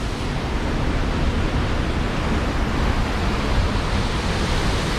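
A Scottish Highland waterfall roars as a constant, dense rush of water, broadband and unbroken, heard close with no voices.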